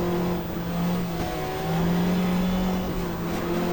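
Race car in the game GTR2 pulling out of the pits at Pukekohe on cold tyres, a steady droning engine tone holding under a faint wash of track noise, fairly loud and close.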